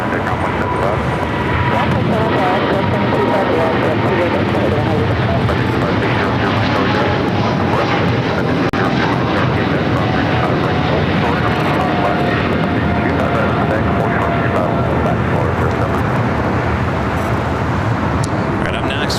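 Jet aircraft engines roaring during takeoff at LAX, a loud, steady broadband rumble that persists for the whole stretch, with a voice talking underneath.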